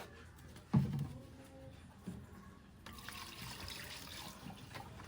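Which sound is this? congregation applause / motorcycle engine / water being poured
water being poured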